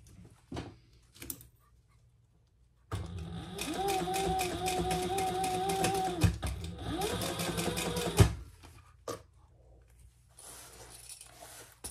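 A sewing machine top-stitching around a leather pouch runs in a fast, even mechanical chatter for about five seconds, then pauses briefly and starts again, close and loud, between quieter handling knocks.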